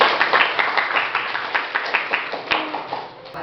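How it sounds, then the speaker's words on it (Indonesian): Audience members in an Indonesian teacher-training classroom give a standing round of clapping, with individual hand claps clearly audible as a dense, fairly close patter that stays steady for a few seconds with no talk. "Tepuk tangan berdiri."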